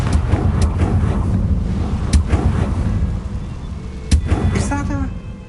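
A Confringo blasting spell from a Harry Potter game fires off in a few loud, punchy cracks and bursts, backed by a steady windy roar and rumbling in-game noise, ending with a bright fizzing tail.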